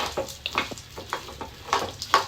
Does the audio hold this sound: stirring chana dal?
yes